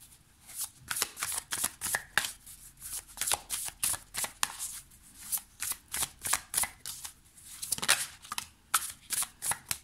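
A Muse Tarot deck of cards is shuffled by hand, a close series of quick riffling bursts in an uneven rhythm, each one a crisp papery flutter followed by brief gaps.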